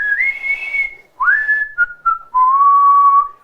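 A person whistles a short tune alone, a few clear sustained notes with rising slides and brief gaps between them, close and loud against silence.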